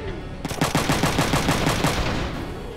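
A rapid burst of automatic gunfire in the PlayStation game Front Mission 3, about a dozen evenly spaced shots in quick succession, with a sharp attack and a short fading tail.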